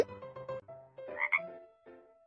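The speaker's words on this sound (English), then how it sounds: "Frog." Frog croaks in a children's mobile game, Baby Panda's School Bus: a few short, close croaking calls over a light, bouncy game melody, with no talk.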